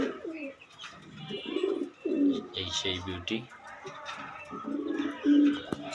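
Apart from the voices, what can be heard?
pigeons cooing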